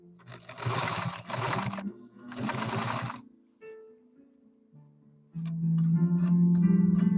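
An Adler 189A industrial sewing machine stitches leather at a leather show. Two bursts of steady, rapid motor and needle clatter come first, then a short pause, then a louder continuous run of sewing.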